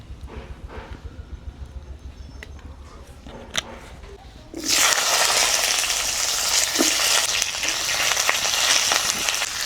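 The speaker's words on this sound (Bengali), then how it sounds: "সিম আলুগুলোকে এবার কষিয়ে নেব" Flat beans and potatoes tipped into a hot pan for sautéing: quiet low clatter first, then a sudden loud sizzle that carries on steadily up close.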